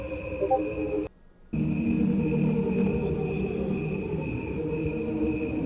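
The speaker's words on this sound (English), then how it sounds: "this is allegedly crickets sped up" A dense, steady chorus of crickets in a sped-up recording, continuous high trilling tones layered over a lower droning hum, briefly cut out once before resuming at full strength.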